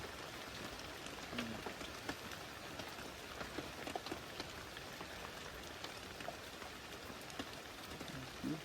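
Steady rain falls on an old hut deep in the forest, an even, soft patter with faint drips, unbroken and fairly quiet throughout.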